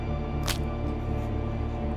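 The Crippled status effect from the video game Shattered Pixel Dungeon is a short, sharp whoosh-like burst near the start, followed by faint lighter ticks, all over a continuous droning music bed.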